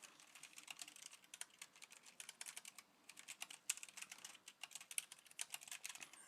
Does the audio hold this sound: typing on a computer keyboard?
yes